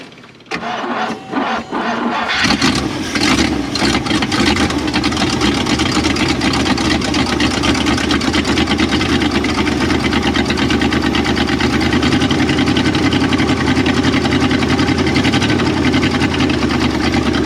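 A Jeep Gladiator engine cranks briefly, catches and settles into a steady, loud idle that continues unbroken, with no talking over it.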